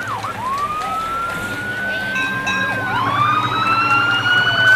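The Mayville Fire Department fire truck's siren wails through a Fourth of July parade in Chautauqua County, rising and then warbling rapidly, loud and close above crowd and street noise.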